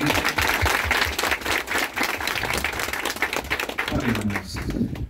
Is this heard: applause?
yes